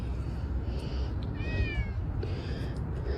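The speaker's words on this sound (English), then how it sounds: "Here's the kitty" A thin stray cat gives a single fairly faint, rising-then-falling meow against steady background rumble, with no talking over it.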